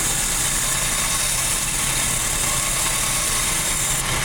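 A bench grinder or belt sander dresses a lathe tool bit on a table tilted down 7 degrees, giving a steady, loud mechanical whir with a bright hissing edge throughout, and no voice.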